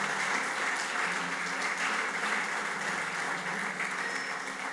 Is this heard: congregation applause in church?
yes